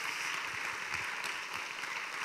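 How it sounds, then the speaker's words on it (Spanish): An audience at a Spanish-language Bible reading event applauds in a soft, steady patter of many hands clapping, heard at a distance and without pause for the whole short stretch. "Vamos a dar un aplauso, ¿sí?"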